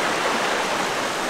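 Kanto Lampo waterfall near Ubud, Bali, pours as a loud, dense, steady roar of rushing water close by, with no other sounds.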